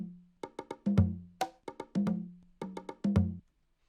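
Afro percussion loop from a sample pack: a looping pattern of pitched hand-drum hits with deep low tones and sharper slaps, played cleanly and alone with no talk over it.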